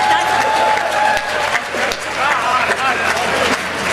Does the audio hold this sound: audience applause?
yes